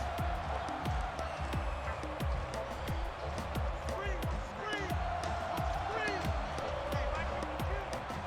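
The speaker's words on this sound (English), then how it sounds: "The crowd really starting to go crazy." In NCAA 14 Football, a stadium crowd gives off a dense, steady roar. Repeated rhythmic thumps beat through it, and a voice talks over the noise.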